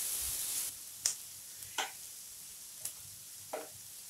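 Crushed garlic frying in a pan for a baby potato dish gives a soft, steady sizzle, with a few sharp ticks of a spoon scraping the pan now and then.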